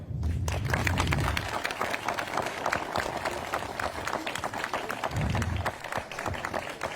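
An audience bursts into applause, a dense, fairly loud wash of many hands clapping that swells at the start and again near the end.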